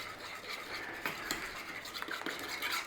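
A spoon stirs a glaze of syrup, coconut oil and vanilla in a small bowl, making faint, soft scraping and light clinks in a repeating rhythm, with no talking.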